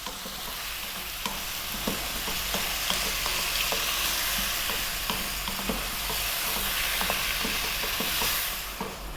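Tomatoes for a beef and potato curry sizzle steadily in a pan while a utensil stirs and scrapes them, giving irregular clicks over the constant frying hiss, close and fairly loud with no talk.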